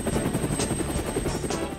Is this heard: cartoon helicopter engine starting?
yes